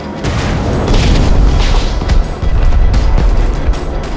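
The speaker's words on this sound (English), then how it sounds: "Fireworks!" Fireworks bursting in the video game Minecraft: Story Mode, heard as a dense run of deep booms and crackling blasts that overlap and roll on loudly throughout, with no talk.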